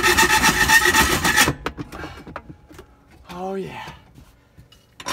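Power saw blade cutting through a part while pulling the dash from a 1987 VW Vanagon in a Subaru engine swap, a loud dense grinding burst lasting over a second that stops abruptly, followed by clanks and a brief spoken remark.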